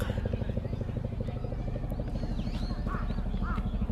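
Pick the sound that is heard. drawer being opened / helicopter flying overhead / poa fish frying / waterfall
helicopter flying overhead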